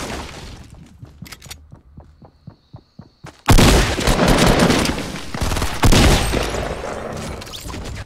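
Shotgun blasts in Fortnite on Xbox One: a rapid series of sharp, evenly spaced shots, then a sudden loud burst of dense gunfire and explosions that stays heavy, with a few sharp peaks near the end.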